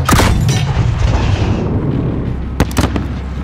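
A breaching charge detonates in the Call of Duty Modern Warfare embassy mission: a loud, close boom opens and rumbles away into a long low decay, then a couple of sharp gunfire-like bangs crack near the end.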